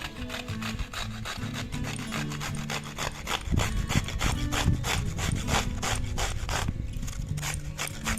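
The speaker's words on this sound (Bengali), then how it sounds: "কুড়ুনির যে একদম ছোট ছিদ্র আছে সেটা দিয়েই কুড়ে নিতে হবে।" Steady rhythmic rasping of ridge gourd being grated by hand on the finest holes of a hand grater, quick back-and-forth scrapes with no talking.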